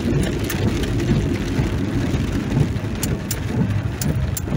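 Steady rain falls in Kunovice, a dense continuous patter with a few sharper drop hits, heard close and fairly loud with no voices.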